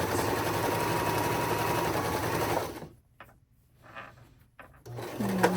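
A Baby Lock Accolade sewing machine back stitching along the opening of a zipper pouch hums in a loud, steady run, stops briefly with a few soft handling noises, then starts again near the end.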